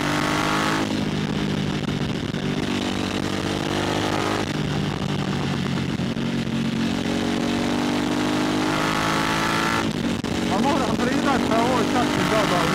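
A 2022 Harley-Davidson Pan America motorcycle being ridden, its engine droning steadily with shifting pitch as it accelerates and changes gear, close and loud, with a brief surge near the end.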